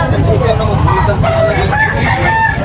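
A rooster crows loudly and close by among clucking fowl, over a steady low background rumble.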